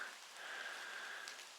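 Steady rain patters on a surface outdoors along a hiking trail, a faint, even hiss with no voices.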